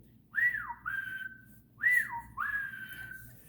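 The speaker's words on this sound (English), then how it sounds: "a chickadee whistled" Two clear, sweet whistled chickadee calls, each a falling note followed by a longer steady tone, repeated with a short pause, against quiet background.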